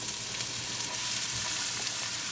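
Onion sautéing in olive oil with cumin in a pan on high heat, a continuous even sizzle with faint stirring, close and moderately loud.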